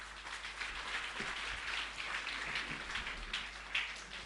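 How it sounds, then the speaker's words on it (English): Applause from parents and guests at a kindergarten annual day event, a steady, moderately quiet patter of clapping with no voices over it. "Mrs. Indrani, please give a huge round of applause."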